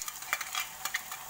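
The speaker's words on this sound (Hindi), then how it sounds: "उससे थोड़ा सा ऐसे फ्राई कर लीजिए।" Bread frying in a pan for a Schezwan snack gives a bright, continuous sizzle broken by quick stirring scrapes, close up and without any voices.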